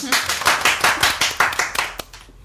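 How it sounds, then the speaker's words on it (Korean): An audience on a Korean talk show gives a single brief burst of clapping, with roughly a dozen quick, sharp, close claps in a lively rhythm that thin out and stop near the end. "동의하시면 박수 한번 쳐주세요"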